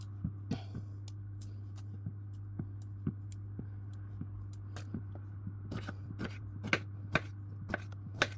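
A knife chops a shallot on a cutting board in a quiet kitchen, sharp irregular taps that quicken near the end over a low steady hum, no voices.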